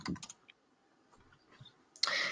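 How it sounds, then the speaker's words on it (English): Computer keyboard typing during a drawing and animation webinar: a short burst of quick keystroke clicks at the start, a few faint scattered taps, then a louder dense clatter of keys at the very end, with no voices. "Let me type in Bodies in Motion."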